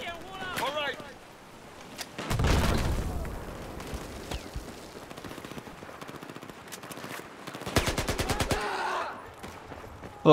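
Battlefield 4 combat in Shanghai: a heavy blast near 2.3 seconds rumbles out, then a rapid burst of automatic gunfire around 8 seconds, with a voice talking early on and scattered battle noise between.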